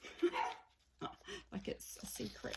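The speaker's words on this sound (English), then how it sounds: "excuse my dog there" A pet dog gives a short bark or yip near the start, followed by someone talking indoors over a quiet room.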